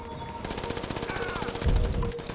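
Rapid automatic gunfire rattles continuously in GTA V Online, a dense machine-gun burst throughout with a heavier thump near the end, loud and close in the game mix.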